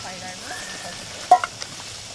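Oil heating in a big fry pan set over raked-out campfire coals at a motorcycle camp, a soft steady sizzle with a brief clatter of the pan partway through, close and fairly quiet.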